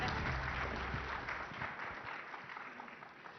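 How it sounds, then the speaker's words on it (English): Audience applause at a plenary session of the News18 Rising Bharat Summit 2026, a broad wash of clapping that starts fairly loud and gradually thins out over a few seconds, with no speech over it. "Can we have a huge round of applause,"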